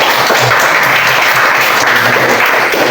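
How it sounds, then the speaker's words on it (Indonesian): Schoolchildren in a classroom clap together, a loud, dense burst of applause filling about three seconds without a break. "Berikan tepuk tangan lagi ya."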